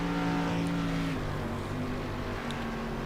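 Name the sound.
race cars on dirt oval racetrack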